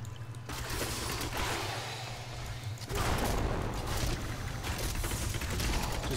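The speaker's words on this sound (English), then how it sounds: "More rapid fire." A Rapid Fire attack in Diablo 3 as a rapid, dense stream of mechanical firing clatter that grows louder and busier midway, sustained throughout with game effects layered over it.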